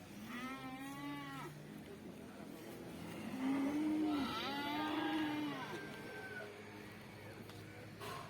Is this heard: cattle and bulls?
yes